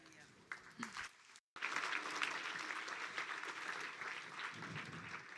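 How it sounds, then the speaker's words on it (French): An audience at a conference session applauds in a sustained burst of clapping that briefly cuts out and then fills the room again, with a voice talking over parts of it. "Est-ce qu'on peut encore applaudir une dernière fois"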